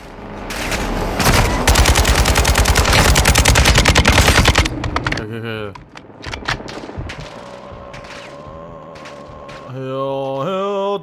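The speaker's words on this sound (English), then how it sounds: "LMG ahead!" Light machine gun fire in Call of Duty: Modern Warfare 2, a loud sustained burst of rapid automatic shots for about four seconds, followed by scattered shots, impacts and a few mechanical game sounds.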